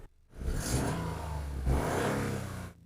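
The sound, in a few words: Toyota GR Yaris three-cylinder engine revving in sport mode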